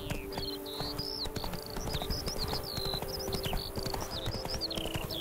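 Horse hooves clip-clop steadily at a walking pace in The Witcher 3, repeated close hoofbeats layered under constant game ambience with chirping birdsong overhead.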